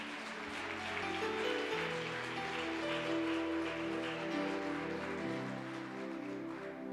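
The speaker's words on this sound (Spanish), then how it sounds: "Alguien le da un aplauso a Jesús, por favor" A church congregation applauds during a sermon, a steady spread of clapping running under sustained organ or keyboard chords, even and moderately distant.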